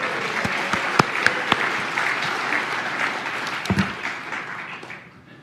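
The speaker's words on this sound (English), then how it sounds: "Can I get a round of applause for Larry Elder?" A college audience at Hillsdale College applauds, the crowd clapping steadily with a few sharp, close claps standing out above the wash before the sound tapers off near the end.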